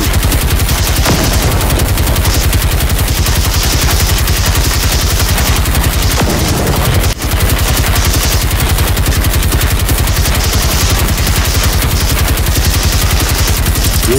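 Rifle fire from a sniper tank in the video game Generation Zero pounds without a break, loud and dense like rapid gunfire, with one brief dip midway.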